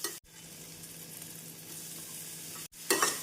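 Cabbage being stirred into onion and garlic in a hot pan, giving a steady close sizzle with soft scraping, broken by two brief gaps and a louder burst of frying near the end.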